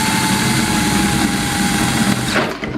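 A drill bores to enlarge a hole in a wooden knife stand, a loud, close, steady motor whine that holds for over two seconds, then spins down and tapers off near the end.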